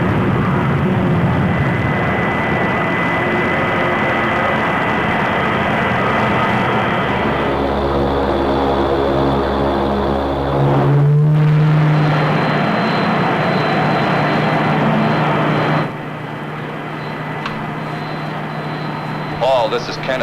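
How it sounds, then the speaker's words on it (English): An orbit jet spacecraft landing in a science-fiction film: a loud, sustained engine roar with shifting whine, swelling midway before dropping to a quieter drone. "The orbit jet is in the process of landing."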